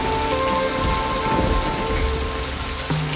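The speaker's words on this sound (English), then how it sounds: "There's some pretty wild storms here in December." Heavy rain pours steadily during a rainy-season storm, a dense close wash of drops drumming on surfaces with faint low rumbles beneath, continuous and loud throughout.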